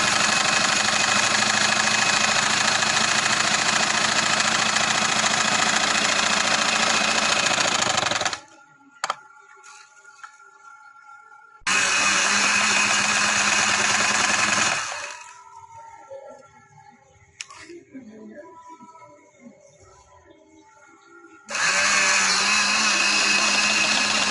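Electric sewing machine stitching a casual trouser seam: a loud continuous mechanical whir in long bursts, stopping twice with quiet gaps of faint clicks between runs.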